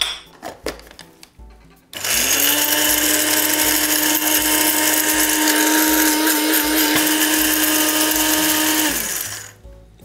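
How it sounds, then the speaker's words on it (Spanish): Electric spice grinder pulverizing two whole cinnamon sticks and cloves into fine powder, a loud steady high whir lasting about seven seconds after some brief handling noises, then cutting off. "Moler hasta que quede completamente hecho un polvo fino"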